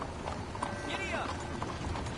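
Horse hooves clip-clopping at a trot in the Red Dead Redemption 2 video game, a steady rapid patter under a constant background wash, with a voice speaking over it.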